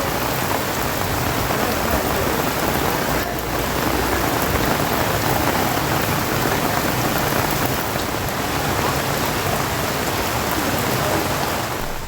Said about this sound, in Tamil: வெளுத்து வாங்கிய கனமழையால் முக்கிய சாலைகளில் மழைநீர் பெருக்கெடுத்து